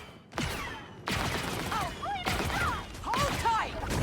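Gunfire in a fast multiplayer video game match, with several sharp broadband bursts and thuds spread over a few seconds amid busy game noise and pitched effect tones. A player talks excitedly over the action.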